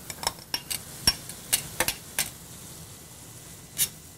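Cooked hamburger meat is mixed into a stuffed-shell filling with a spoon, giving a run of sharp, irregular clicks and scrapes against the bowl over faint background hiss.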